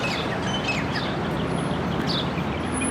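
Birds chirp and call in a small garden oasis, several brief tweets scattered over a dense, steady wash of background noise, fairly faint and partly buried.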